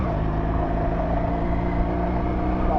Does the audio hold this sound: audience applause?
no